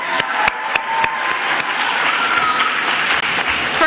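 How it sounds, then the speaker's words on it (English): Applause from a school graduation audience, continuous dense clapping with a few sharp individual claps standing out near the start, loud and sustained throughout. "First of all, we need a round of applause for Zainab."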